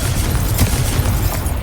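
A Confringo fire spell blasts in Hogwarts Legacy, a loud, dense roaring burst that holds steady for over a second before easing off, close up with no voices.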